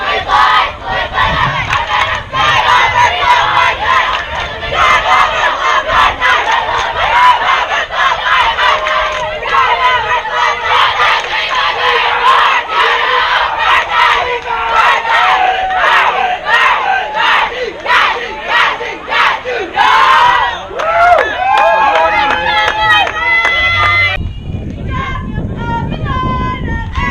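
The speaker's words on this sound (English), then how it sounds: "You heard the Rocklin Thundercats cheering over the Vipers during their warm-up ritual, the pregame ritual." A youth team, the Rocklin Thundercats, does its pregame warm-up cheering, a loud crowd of young voices chanting and shouting in rapid rhythmic bursts over wind noise for about 24 seconds, then cut off abruptly.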